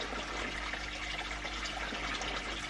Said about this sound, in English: you can see from the water coming out at the bottom, after a while it will cut off